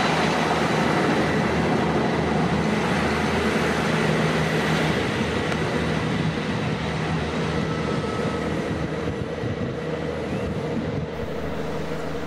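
A train running on the Settle and Carlisle railway toward Leeds, with a steady, loud rumble and broadband roar that holds even for about twelve seconds, and no voices.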